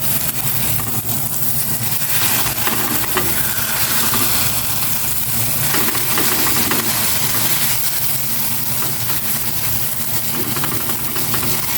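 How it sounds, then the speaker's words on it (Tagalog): Steady sizzling of an eggplant omelette frying in a pan, a continuous crackling hiss that stays even and close throughout. "Lutuin ko muna itong egg with talong"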